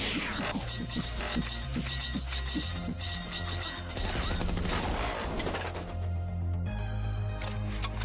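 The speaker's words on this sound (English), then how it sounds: "Only my shotgun." Repeated shotgun blasts fire at indestructible enemy shields in the video game Beyond Sunset, loud and dense over a driving music track with mechanical clatter between shots.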